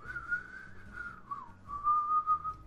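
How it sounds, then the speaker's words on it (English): A person whistles a short wavering tune, thin and somewhat shaky, close by and alone over a faint low background. "I can't even whistle that well, as you could probably hear by that awful attempt."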